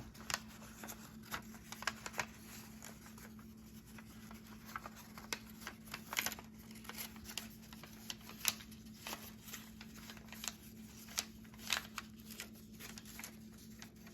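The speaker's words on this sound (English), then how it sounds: "I want you to fold this one down, and then just follow the crease that you see." Origami paper being folded along a crease while making a paper diplodocus, heard as faint, close, irregular crinkles and sharp little crackles scattered over a quiet steady background hum.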